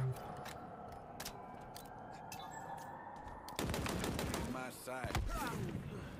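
Battle rifle fire in Halo Infinite Big Team Battle: rapid bursts of sharp shots crackle through the match, quieter at first, then a denser, louder volley of gunfire and impacts near the end.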